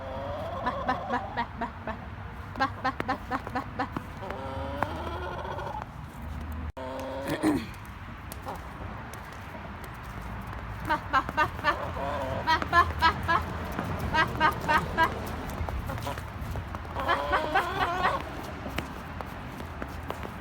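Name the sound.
chicken clucking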